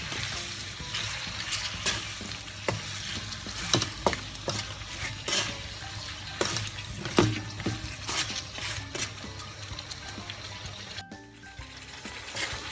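Shrimp are stirred in a frying pan with salt as they turn orange, giving a steady sizzle broken by repeated scraping and clacking spatula strokes against the pan, close up and with no talk.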